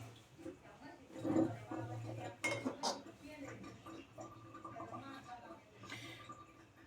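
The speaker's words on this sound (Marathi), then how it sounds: "चमच्याने मिक्स करूया आपण." A spoon stirs chilled chicken gravy with curd in a bowl for dum biryani, producing scraping and clinking of metal against the dish in uneven bursts, near and fairly quiet, with a voice speaking intermittently alongside.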